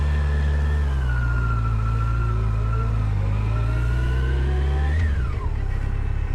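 A Yamaha FJR1300 motorcycle engine runs close by with a deep, loud rumble. Its pitch climbs as it revs near the end, then drops off abruptly.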